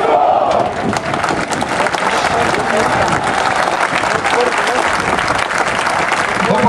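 Crowd applause and cheering at a Botev Plovdiv team presentation, welcoming a Bulgarian national team player back to the yellow-black club; dense, loud and sustained throughout, with shouts mixed into the clapping.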